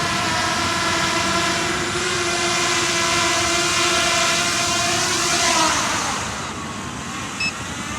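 A Hubsan Zino Mini SE drone returning home and landing gives off a close, steady whine of propeller tones that slowly drops in pitch and fades as the motors wind down after touchdown.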